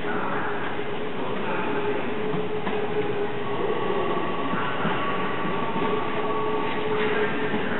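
Odakyu 3000 series train pulling into a station platform, a steady continuous rumble of the carriages with faint wheel and brake tones, close and loud throughout.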